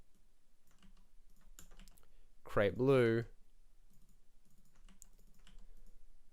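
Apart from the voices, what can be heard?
typing code on a computer keyboard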